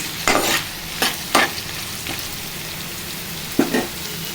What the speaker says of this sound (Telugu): ఒక నిమిషము మగ్గాలి కలుపుకోవాలండి